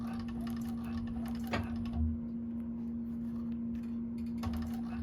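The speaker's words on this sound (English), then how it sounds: "And let it sew right off the edge." A 1341 cylinder arm sewing machine stitches along the edge of a bag, a steady mechanical whir with a low hum and faint clicking bursts running continuously at moderate level.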